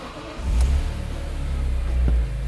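A 2002 BMW M3 Convertible engine cranks and fires, settling into a loud, steady low idle rumble close by, with a faint click near the end.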